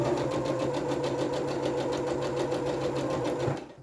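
A sewing machine runs at a fast, steady rhythmic clatter up close, stitching continuously before slowing and stopping at the end.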